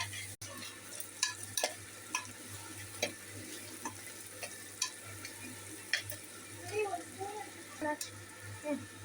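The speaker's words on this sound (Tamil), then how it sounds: "நல்லெண்ணெய் ஊற்றி நல்லா வெங்காயத்தை ப்ரௌன் கலராக வதக்குங்க." Onions sautéing in sesame oil for a crab curry crackle with a low, steady sizzle, broken by soft irregular stirring clicks and taps across the stretch, fairly faint, with a faint voice late on.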